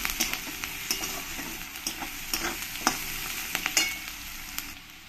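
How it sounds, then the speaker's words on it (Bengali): Chopped onion frying in a pan with spices and salt, a steady bright sizzle broken by repeated scraping stirs of a spatula, close and alone. "পেঁয়াজ কুচানোটাকে ভালো করে মশলার সঙ্গে মিশিয়ে নিয়ে ভালো করে লাল লাল করে আমি ভেজে নেব"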